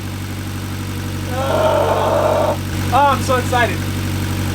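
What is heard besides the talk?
Mitsubishi Evo X engine idling after timing chain rebuild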